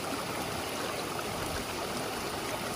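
Steady running water from a stream, a constant rushing babble with no pauses, fairly close and even in level.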